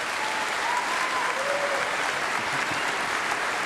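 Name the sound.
audience applause at college commencement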